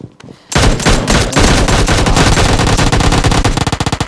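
An M416 assault rifle fires in PUBG Mobile Lite, a loud sustained burst of rapid automatic gunfire that starts abruptly and keeps going, with the individual shots separating toward the end.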